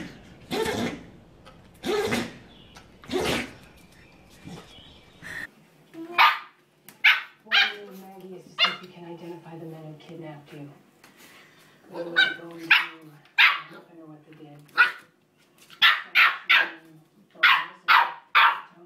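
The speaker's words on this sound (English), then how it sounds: "Dog." A Rottweiler barks repeatedly in loud, deep bursts, first three spaced barks alone, then quicker barks mixed with whimpers and yips, while people talk in between.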